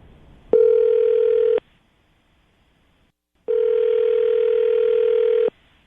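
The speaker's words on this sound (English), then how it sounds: "Lily, we're about to call Mark and see if we can get him on the phone" Two long ringback tones sound on a telephone line, each a steady electronic buzz lasting over a second with a gap of silence between them.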